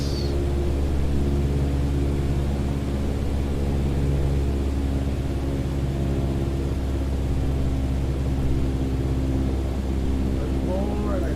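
A steady, loud aircraft engine drone holds at 800 RPM throttle in Microsoft Flight Simulator, an unbroken broadband roar with a constant low hum underneath for the whole stretch.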